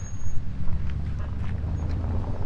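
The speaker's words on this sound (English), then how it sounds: "So you get like a rumble from an exhaust. So you've got a speaker at the back, going, bah, bah, bah, bah, like a V8" A Xiaomi SU7 Ultra electric car plays a simulated V8 exhaust rumble through a rear speaker while pulling away. It makes a steady, deep, low-pitched drone with some wind noise and no voices.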